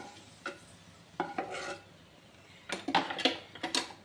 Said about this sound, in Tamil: திராட்சை வறுத்தாக நல்லா பபுள் மாதிரி கிளம்பும் பாருங்க